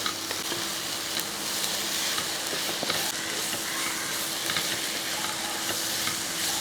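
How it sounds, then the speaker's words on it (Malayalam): Beef varattu being stirred and fried in a pan, a steady close sizzle with continuous scraping and stirring noises throughout, no voices. "ഇനി ഇത് ഒന്ന് നല്ലപോലെ എല്ലാം കൂടെ ഒന്ന് യോജിപ്പിച്ച് ഇളക്കിയെടുക്കുക."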